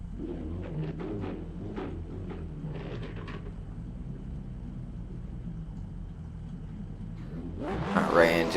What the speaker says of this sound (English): Pontus will now lead in his SRX7 James Dean replica car.